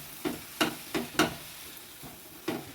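A ground paste of ginger, cumin, coriander and green chilli fries in a pan, with a faint background sizzle broken by about six short scraping stirs at an irregular pace, close and without speech.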